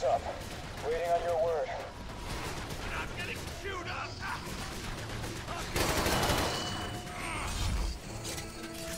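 Enemy gunfire in The Bureau: XCOM Declassified, a loud, busy mix of game shots, mechanical clatter and effects, with a dense burst near the end, over talking voices.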